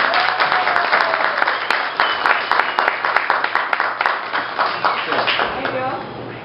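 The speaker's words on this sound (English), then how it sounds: "Please, a warm round of applause for Mr." An audience claps for actor Bill Duke at an interview event: sustained, fairly loud applause with distinct individual claps, voices mixed in underneath.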